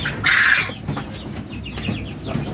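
An adult female Texas broiler quail gives a brief, bright clucking call up close, followed by quieter soft chirps and handling rustles with no talk.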